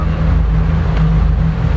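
MerCruiser boat engines run with a loud, steady low drone and a constant hum, close and alone.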